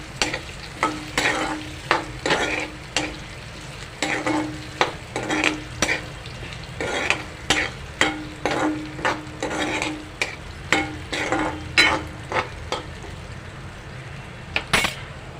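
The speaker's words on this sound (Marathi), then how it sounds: "उकडलेला बटाटा घाला मिक्स करा" Sabudana khichdi with boiled potato being stirred in a frying pan: a steady run of scraping spatula strokes against the metal, each with a soft clink, over a low sizzle, close and alone.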